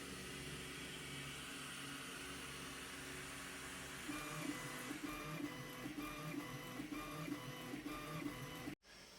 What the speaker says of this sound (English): The printer prints.